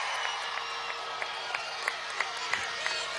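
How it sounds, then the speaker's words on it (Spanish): Crowd at a presidential campaign closing rally in Acarigua, Portuguesa, applauding for the revolutionary youth: a dense, steady wash of clapping and cheering with scattered sharper claps throughout. "Un aplauso a la juventud revolucionaria de la patria."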